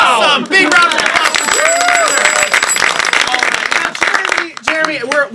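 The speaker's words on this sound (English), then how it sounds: "Big round of applause." Studio audience at a comedy spelling-bee show breaks into loud, sustained applause with cheers and whoops, close and dense throughout, with voices calling out over it.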